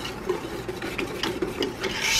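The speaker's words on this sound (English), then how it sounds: "you want to make sure everything is stirred up real good" A spoon rasps and scrapes around a pot of sugar and cocoa powder being stirred for chocolate sauce, a steady close scratching with repeated short strokes and no talking.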